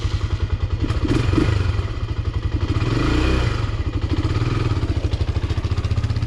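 Buggy engine running in a garden, a close, steady, throbbing putter with rattly clatter that swells slightly when given a little gas, continuous throughout without talk.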